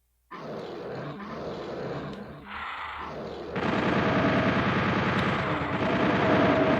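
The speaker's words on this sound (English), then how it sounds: "I got my chain gun out because those Lost Souls bastards." Rapid chain gun fire from Doom 64 on N64 hardware, a dense loud stream of shots that swells and carries on steadily, with growling monster roars mixed into the clamour.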